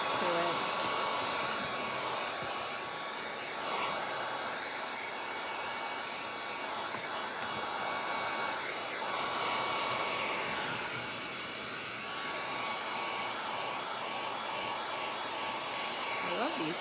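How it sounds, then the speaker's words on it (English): A heat gun blows steadily while drying paint on a picture frame, giving a continuous, fairly quiet whooshing hum that holds without a break. "I love these guns, these heat guns."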